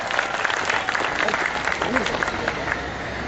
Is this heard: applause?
yes